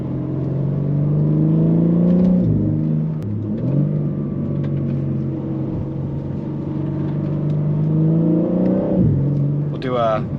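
BMW G80 M3 accelerating from inside the cabin, engine note climbing steadily in pitch with abrupt drops at quick gear shifts around two and nine seconds, loud and continuous throughout.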